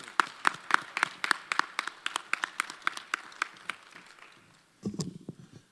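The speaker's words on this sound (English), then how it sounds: "give me a round of applause for Dr. Raymond Wimbush." A convocation audience at Morgan State University gives sparse, fairly close applause. Individual claps sound distinctly at first, then they thin out and fade, and a short burst of noise follows at the end.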